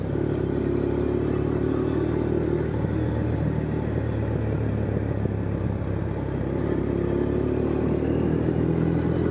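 Motorcycle riding a cold winter mountain road toward Thandiani, a steady close engine drone with rumble and wind, running continuously throughout without speech.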